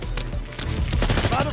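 A quick run of gunshots while hitting targets in the video game 007 First Light, several sharp reports packed into a short burst, loud and close.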